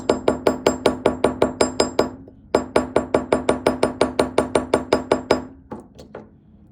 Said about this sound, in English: I could go with my hammer right on top of it and just add some dots.